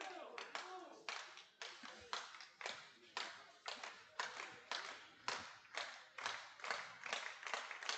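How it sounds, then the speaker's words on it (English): At a Mississippi Mud Monsters baseball game, a crowd claps in a steady rhythmic beat, about two claps per second, continuous and fairly close throughout. "Crowd cheering on their Mud Monsters."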